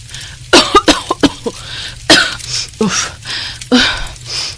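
A woman cooking at a clay stove coughs loudly and repeatedly, harsh hacking bursts in uneven clusters with short gaps, close and forceful.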